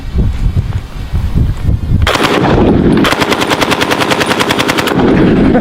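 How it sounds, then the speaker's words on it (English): A Browning Automatic Rifle (BAR) machine gun fires loud, sustained bursts at a steady rapid cadence, deep and thunderous, with no talk over the gunfire. "Its firing sound is deep and thunderous, with a cadence of 400 to 600 rounds per minute"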